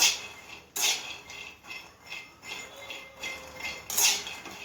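Peanuts being stirred and roasted in a steel pan over medium gas, with scraping and clinking of a utensil against the metal in irregular bursts, fairly quiet and close, no voices.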